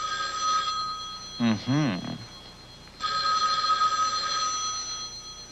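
A telephone bell rings loudly in two bursts, with a short spoken reply between the rings.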